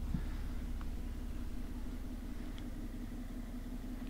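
A 2000 Toyota Aristo Vertex Edition with the 2JZ-GTE twin-turbo engine idles quietly through a larger-bore aftermarket exhaust, giving a steady low rumble at a distance.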